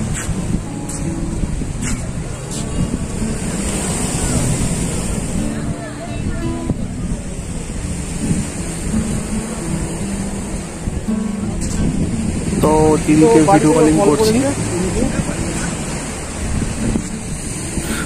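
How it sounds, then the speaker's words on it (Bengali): Sea waves roaring at Digha beach, a broad continuous surf wash with wind buffeting the microphone, heard under a person talking on a video call. "সমুদ্রের ঢেউ আর সমুদ্রের আওয়াজ, গর্জন"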